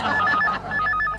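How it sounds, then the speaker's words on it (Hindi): A telephone rings in two bursts of trilling electronic tones in an Indian comedy-show setting, loud and close with a short gap between rings and no talk over it. "फोन।"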